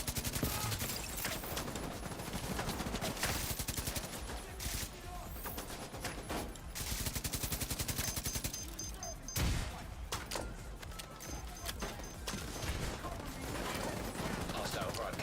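Sustained light machine gun fire in The Division 2, dense overlapping bursts and shots rolling on almost continuously at close range, with a few brief lulls and some talk mixed in.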